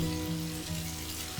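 Fried onions in a pan sizzle steadily as a tomato goes in for rui posto, a continuous close hiss with a low hum underneath and no voices.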